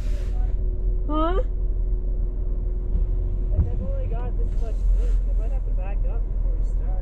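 A van engine drones low and steady while pulling a vehicle stuck deep in mud on a mountain trail, staying under people talking throughout.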